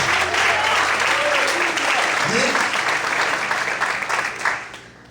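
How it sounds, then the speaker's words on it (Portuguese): Church congregation clapping in praise at an evening service, a full, steady roar of applause that tapers off toward the end, with a brief voice rising through it. "Aplauda Ele nessa noite"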